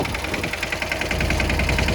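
A Swaraj tractor engine runs steadily nearby at work on a field, giving a continuous knocking mid-pitched rumble with a rhythmic clatter and no pauses.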